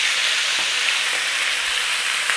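Beef searing in hot oil in a pan, a loud, dense hiss and crackle held steadily from start to finish with no talk.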